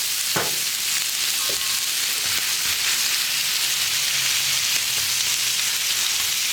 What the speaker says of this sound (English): let's start cooking that pork. Get her going.